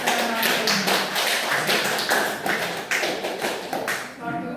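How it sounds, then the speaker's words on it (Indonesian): Audience at an education seminar clapping for a speaker, a dense wash of hand claps held at a fairly steady level and close by, with faint voices underneath. "mari kita berikan tepukan tangan yang meriah untuk Ibu Materi"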